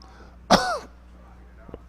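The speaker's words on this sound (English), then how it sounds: "You're coughing because it's trying to expel what's in your lungs." A single short throat-clearing cough bursts out close and loud, followed by quiet and a faint tick near the end.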